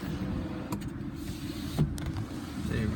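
The electric moonroof of a 2014 BMW 328i xDrive slides open after a button press, giving a quiet, steady motor whir inside the cabin with a few faint clicks.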